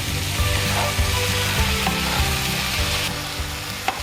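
Beef and chopped flowers sizzle steadily in a hot pan as they are stir-fried, a loud continuous fry with occasional scraping knocks of the utensil.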